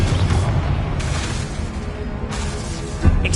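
A Confringo fire spell in Hogwarts Legacy bursts with deep booming blasts, one at the start and more around one and two-and-a-half seconds, each followed by a rushing whoosh.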